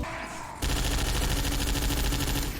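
Rapid automatic gunfire from a fast-firing weapon in the video game Team Fortress 2 Classic bursts in after a brief quieter moment and rattles on loud and steady to the end, with a faint voice beneath.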